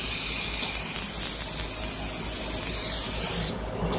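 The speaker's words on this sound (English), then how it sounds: "you just simply spray the can." A loud continuous aerosol spray hisses for several seconds, then cuts off near the end.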